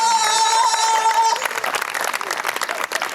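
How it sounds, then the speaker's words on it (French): Crowd at a youth rally in Kinkala, Congo, breaking into applause and cheers after a held musical tone, clapping and crowd noise swelling loudly in the second half. "Je veux écouter les applaudissements"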